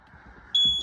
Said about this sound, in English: Now the panel's beeping